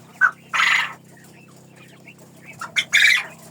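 A rooster calls and chickens cluck in short loud bursts, close by, with a faint steady hum in the background.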